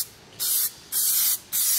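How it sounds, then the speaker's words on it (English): Three short bursts of engine degreaser spray hiss up close in the engine bay of a Jaguar XJ40, each lasting about a third of a second, separated by brief quiet pauses. "Spray it on over here."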